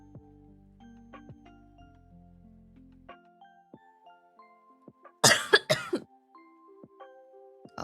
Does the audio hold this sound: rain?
no